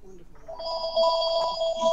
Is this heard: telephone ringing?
yes